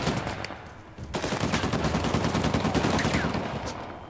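Sustained firefight in Uncharted: The Lost Legacy: a brief lull, then a thick wall of rapid overlapping gunshots that keeps going to the end, with a faint voice underneath.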